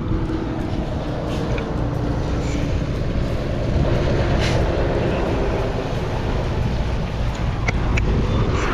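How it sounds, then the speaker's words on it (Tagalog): A continuous low engine rumble from trucks rolling in on Burias Island, with wind noise and a steady outdoor roar, no talking. "Yan po, papasok na yung mga truck oh."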